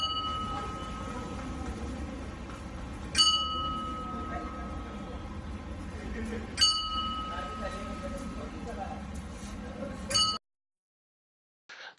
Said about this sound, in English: this bell is right outside monastery, it's called the cloister bell